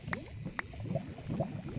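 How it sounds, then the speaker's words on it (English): Water splashing and gurgling in the Minecraft video game, with soft liquid sloshes and a couple of sharp drips over about two seconds, fairly quiet and without talk. "Hear stuff splashing around too."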